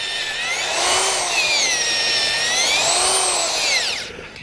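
Power auger boring into clay soil, a sustained whining drone with sweeping pitch that rises and falls as the bit turns and clears shavings, loud and close, then tapering off at the end.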